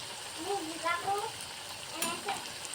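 Aloo pakora fritters of boiled potato fry in hot oil while someone stirs them, giving a quiet steady sizzle with faint scraping and a few clinks from the utensil, close and unbroken.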